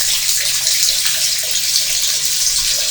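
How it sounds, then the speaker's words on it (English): Water runs steadily from a tap into a kitchen sink in a run-down estate flat, a continuous close hiss and splash with no pauses and no talk. "you put the tap on for 2 minutes"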